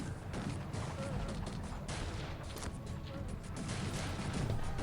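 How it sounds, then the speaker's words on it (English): Dense, distant gunfire and booming artillery crackle in a continuous battle din, with faint voices underneath, in the strategy video game Cossacks 3. "Just walking into this complete nightmare of gunfire."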